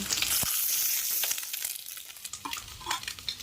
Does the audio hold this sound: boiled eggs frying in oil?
yes